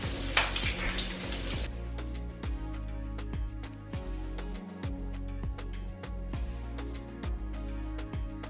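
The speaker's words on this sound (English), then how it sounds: "I'm gonna put those in there and just fry them up in it and add a little bit of eggs." Leftover German pancakes and eggs fry in a pan with a steady close sizzle, while stirring and light scraping of utensils on the pan recur throughout.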